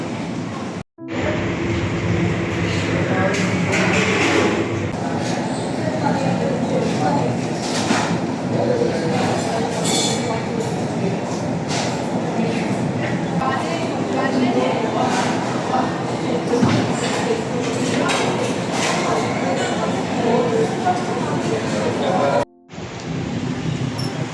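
A loud, continuous rumble of rail traffic outside the railway station in Kannur, with dense mechanical noise that cuts off briefly near the end.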